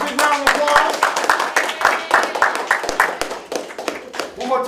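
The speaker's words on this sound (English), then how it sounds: "Y'all give our three finalists a big round of applause." A live audience claps for three finalists at a sanitation division employee hip-hop competition, with sharp, fast, uneven hand claps rattling close and loud throughout, and voices mixed in.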